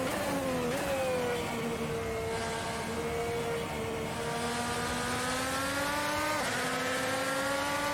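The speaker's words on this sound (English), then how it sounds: "I think I actually spun up the rear tires there" An IndyCar racing at Watkins Glen in a sim-racing game, its engine droning steadily at high revs, with a brief pitch jump as the rear tires spin up, loud and continuous throughout.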